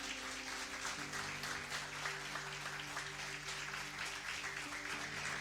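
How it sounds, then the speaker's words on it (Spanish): A church congregation applauds during a Spanish-language sermon, steady crowd clapping at moderate distance over a constant low organ-like hum, with no talk on top. "Dale un aplauso al Señor si lo crees."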